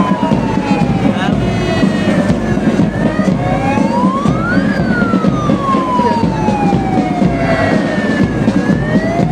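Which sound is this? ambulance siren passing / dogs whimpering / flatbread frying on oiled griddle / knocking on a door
ambulance siren passing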